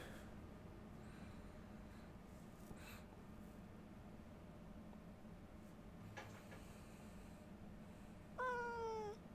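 A sad cat meows in the video game Ancestors: The Humankind Odyssey, a single loud, rising-and-falling mewl near the end that follows a long stretch of steady low game ambience and a few faint distant calls.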